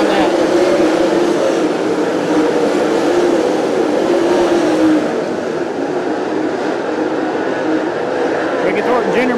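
Dirt late model race cars roaring around Fairbury Speedway during a World of Outlaws event, a loud continuous engine drone from a packed field with a commentator talking over it.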